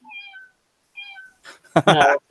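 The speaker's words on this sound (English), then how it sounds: "The cat noise always makes the animals perk up." A cat gives two short, clear meows in quick succession, each a rising-and-falling tonal cry, followed by a person's voice.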